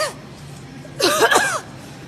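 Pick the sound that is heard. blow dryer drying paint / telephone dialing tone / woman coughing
woman coughing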